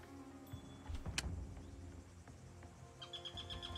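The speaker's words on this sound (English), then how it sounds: "Bird's voice." A bird call from a video game, short chirps and tweets over a low ambient game background, faint and without talk, with a brief sharper sound near the start.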